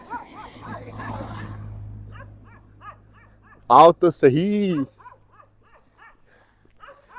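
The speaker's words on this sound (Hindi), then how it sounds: "वहां से क्यों भौंक रहे हो?" A dog barks down from a height above houses built high on a slope, giving a short burst of sharp barks and a drawn-out whining yelp midway, while someone talks before and after.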